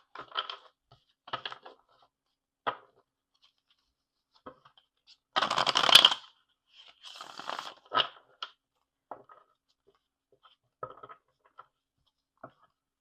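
Tarot cards are shuffled and riffled in short bursts with pauses between them, including one longer, louder riffle near the middle, close by and with no talking.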